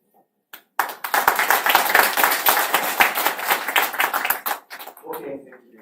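An audience at a software conference talk applauds, a burst of dense clapping that starts sharply, holds for several seconds and tapers off into a few scattered claps.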